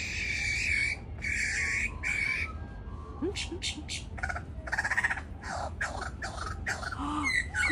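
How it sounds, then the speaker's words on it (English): A kookaburra in the Australian bush gives loud, harsh cackling calls in repeated bursts, with other bird calls around it. "Kookaburra."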